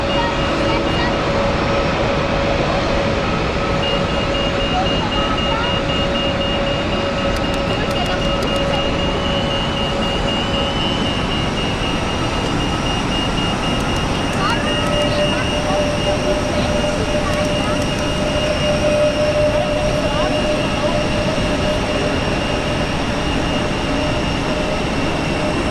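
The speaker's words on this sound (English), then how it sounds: "Tug's going on, pushback tug." Airport apron at Zurich as a pushback tug moves an A321, a steady loud engine drone with constant tonal whine and broad rumble throughout, some talk faintly underneath.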